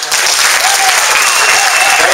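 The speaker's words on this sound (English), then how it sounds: "Give a round of applause." Sustained audience applause at a surprise birthday and relaunch event in Elk Grove, a dense steady wash of many hands clapping close by for about two seconds, with no speech over it.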